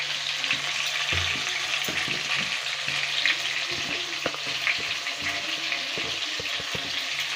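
Pieces of pointed gourd (potol) with salt and turmeric fry steadily in hot oil, a dense continuous sizzle with scattered low clatters of stirring underneath, close up and free of speech.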